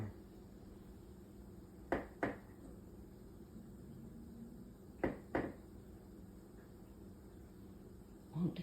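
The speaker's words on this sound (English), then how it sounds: "We got a goose knocking at the back door." A goose knocks at the back door of a house: two quick pairs of sharp taps a few seconds apart and a third near the end, moderately close over a quiet hum.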